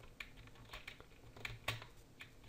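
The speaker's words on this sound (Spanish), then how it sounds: "Y dais a la barra espaciadora." Light clicks of a computer keyboard, including space bar presses, tapped while playing Minecraft, sound as scattered soft, quick taps close by and fairly quiet, with no voices.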